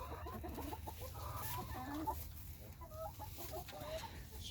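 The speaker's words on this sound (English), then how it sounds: "The chickens are having fun in it." Chickens cluck and chatter nearby in a muddy farmyard during morning feeding. Overlapping short calls repeat continuously over a low background rumble.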